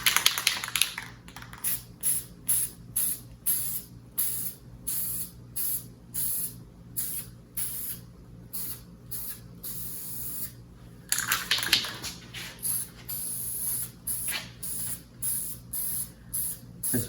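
An aerosol spray can paints rings on beaver boards in a steady run of short, hissing bursts with a longer continuous spray partway through, close and fairly loud over a low background hum.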